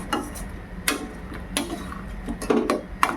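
Fried potatoes go into mutton gravy in a pan, making a series of close clattering knocks and soft wet plops from utensil and pan at an irregular pace, with no talk.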